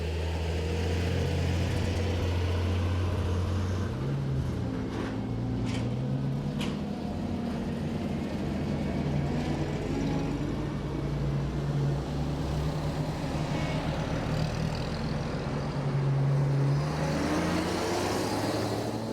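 Military vehicles from a militaria motor club rolling through town in a commemorative liberation parade, a steady loud engine rumble with shifting low tones as vehicles drive past, no voices.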